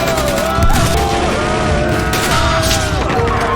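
Dense, loud film gunfire in a brutal gunfight, a continuous wall of overlapping shots and blasts with booming impacts and no pause, close and heavily mixed.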